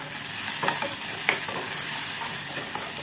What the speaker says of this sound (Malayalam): നമുക്ക് ആ ഒരു സമയത്തിലേക്ക് അരിഞ്ഞ് വെച്ചിട്ടുള്ള തക്കാളിയും കൂടെ ചേർക്കാം.